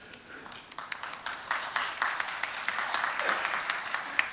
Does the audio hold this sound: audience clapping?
yes